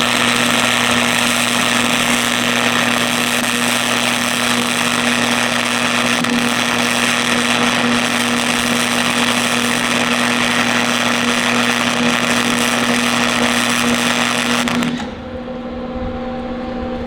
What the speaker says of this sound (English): Riley's over here practicing some welding.